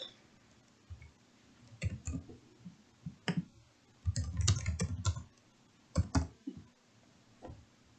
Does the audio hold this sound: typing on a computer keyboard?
yes